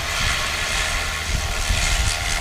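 A STOL airplane comes in to land at the Pony Express STOL competition in St. Joseph, Missouri, and its propeller engine drones steadily at a moderate distance with broad wind-like roar and no talk.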